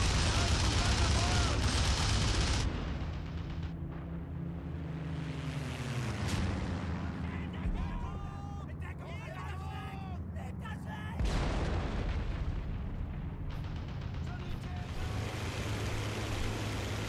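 Bombs bursting on a convoy in IL-2 Battle of Moscow, heavy booming explosions with rumbling aftermath and a droning aircraft engine throughout, someone talking over it.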